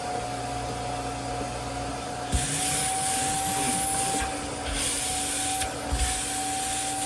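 A carpet extractor drones steadily with a high whine, its suction and spray surging in short bursts as it works over car interior upholstery.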